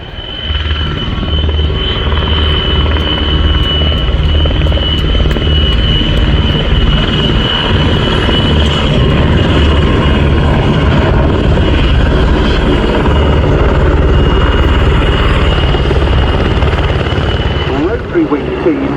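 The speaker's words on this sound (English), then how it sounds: "Rotary wing team of rescue helicopters, as I say, from the Czech Air Force" Czech Air Force rescue helicopters of the 243rd Helicopter Squadron holding at an airshow, a loud continuous rotor and turbine drone sustained throughout, with a commentator talking over the noise.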